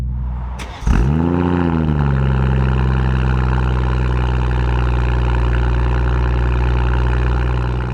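A BMW M240i with a Quicksilver valved exhaust, valve open, cranks and catches, then settles into a loud, deep, rumbling idle with a throaty exhaust tone that stays steady.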